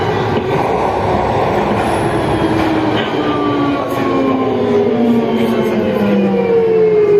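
Siemens VAL 208 NG metro train running through a tunnel between Basso Cambo and Balma Gramont, with a loud steady rumble and rising and falling wheel squeals and whines throughout.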